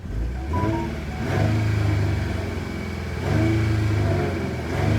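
A Jaguar F-Type supercharged V6 engine revs up in two strong surges, a deep throaty roar rising and holding, then dropping back between pulls, close and loud.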